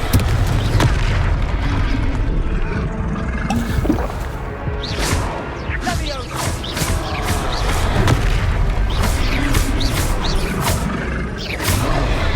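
Confringo fire spell explosions in Hogwarts Legacy amid a loud combat mix, with repeated booming blasts and cracking bursts over a dense, constant rumble.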